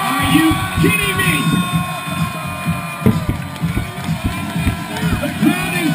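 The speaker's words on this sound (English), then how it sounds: "The crowd firstly says they are not worthy." A crowd at a men's final of a seaside volleyball tournament, cheering and chanting together in a loud, steady roar with whoops, while a commentator talks over it.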